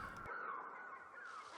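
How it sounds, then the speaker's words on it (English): Eerie crow-like cawing bird cries from Hitchcock's The Birds, mixing real and electronically generated calls, sustained and wavering at moderate loudness with no talk. "Instead, the music is replaced by eerie bird sounds, both real and electronically generated, crafted by Hitchcock's longtime collaborato"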